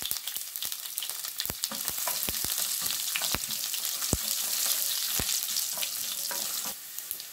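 Cumin seeds and garlic fry in a pan with a steady, soft sizzle, while scattered sharp pops and crackles break through at irregular intervals; no one speaks.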